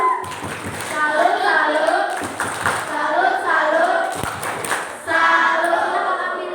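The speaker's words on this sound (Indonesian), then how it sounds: "Kita beri tepuk salut untuk Marisa." Primary-school children at a Catholic student gathering do a rhythmic salute clap, chanting together in a loud, close group with a few sharp claps marking the beat.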